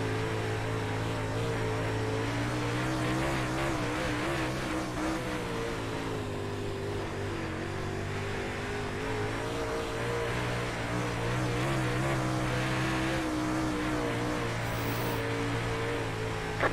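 Super late model race car engines in iRacing at Charlotte, a steady droning roar with sustained tonal harmonics held through laps, slight pitch shifts, continuous and fairly loud.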